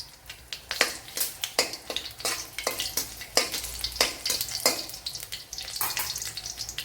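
Dried red chillies frying with mustard seeds in hot coconut oil in a pan, loud close sizzling broken by repeated rhythmic scraping stirs of a spoon, no voices.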